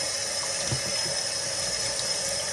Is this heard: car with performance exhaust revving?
no